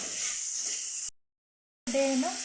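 Tomato, coconut and onion sizzling in hot oil in a pan, a steady bright hiss that cuts out briefly, then resumes with popping and crackling as more pieces hit the oil.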